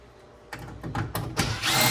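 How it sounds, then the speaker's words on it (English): A power drill backs Phillips screws out of a Zephyr vent hood. After a quiet start, several short, close, whirring bursts speed up, ending in a sustained loud whine, with no talking. "We will remove all these 3 screws, and it's quick."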